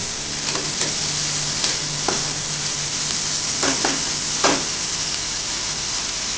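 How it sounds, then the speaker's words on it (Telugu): Chole (white peas) curry frying in a pan, a steady sizzle with scattered scraping knocks of a spoon as it is stirred, close and alone without speech. "ఇది అరగంటకుండా కలుపుతూనే ఉండాలి 2 మినిట్స్ ఒకసారి"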